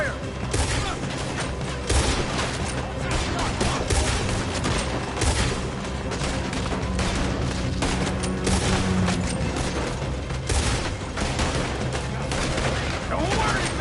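Gunfire in Red Dead Redemption 2 during a shootout: loud, dense, nonstop volleys of shots and booms, with brief voices mixed in.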